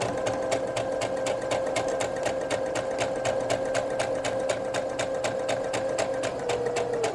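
A sewing machine stitches steadily and continuously, a close, even mechanical whir with a regular needle rhythm and no talking.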